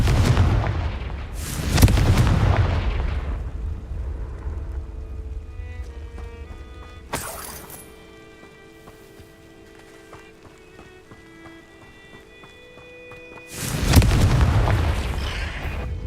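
Confringo spell blasts go off in the Hogwarts Legacy video game as loud booming explosions, one near the start and another near the end, with a sharp crack in between and a quieter stretch of game ambience.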